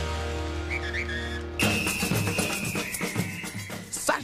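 Traffic police blowing whistles on a busy Saturday-morning street in Mexico City, a long shrill whistle blast sustained over traffic noise after an abrupt start, with shorter chirps near the end.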